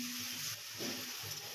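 Mutton with onion, spring onion, turmeric and a little water sizzling and being stirred in a pan over medium heat, a soft steady hiss with faint scraping, no talk.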